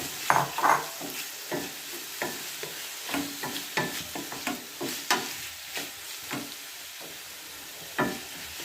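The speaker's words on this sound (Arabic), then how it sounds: "بعد ما تشحرات لينا البصله غادي نضيف الدجاج" Chicken pieces are added to onions frying in a pan, giving a broad steady sizzle close by, with repeated scraping stirs and light clatter scattered throughout, and no speech.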